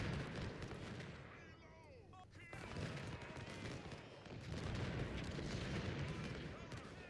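Musket volleys and artillery booms from the Ultimate General: Civil War game, a continuous rumbling battle din with layered shots throughout, steady and fairly loud, with faint chatter underneath.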